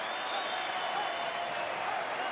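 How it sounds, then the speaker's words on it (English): A college wrestling crowd at Rec Hall applauding and cheering for Aaron Brooks, a steady wash of clapping and crowd noise that holds evenly through the moment, fairly distant and moderately loud. "Crowd to their feet here inside Rec Hall as they cheer Aaron Brooks"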